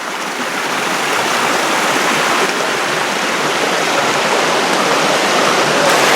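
Water from a mountain spring rushes steadily and loudly, a constant broadband gush close by with no break and no voices over it.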